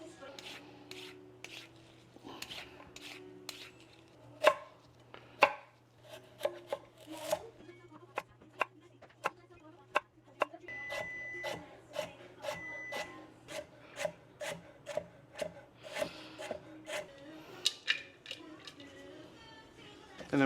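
Vegetables being peeled and prepped for a Nashville hot chicken sandwich, a run of close, rapid scraping and chopping knocks on a cutting board with a steady low hum underneath and no talk.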